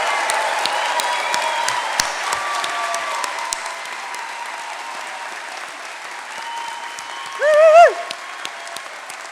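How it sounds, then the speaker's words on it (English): A large audience at a university degree ceremony in Brighton gives graduates a sustained round of applause, dense clapping filling a hall, fading slightly before a brief tonal squeal near the end. "I think we should give all our graduates one more enormous round of applause."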